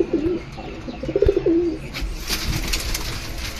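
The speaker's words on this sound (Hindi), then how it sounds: "वो जोड़ी बैठा हुआ देख लीजिए, सारे अच्छे कबूतर हैं माशाल्लाह से," Madrasi pigeons cooing close by, soft low throaty coos repeating in short phrases, followed by rustling and wing-flapping movement noises.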